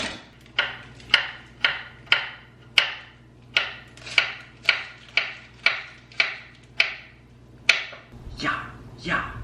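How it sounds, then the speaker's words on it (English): A knife dices jicama on a cutting board, about fifteen crisp chops at an even pace, each with a sharp knock. Faint talk can be heard in the background. "I'll start dicing the jicama."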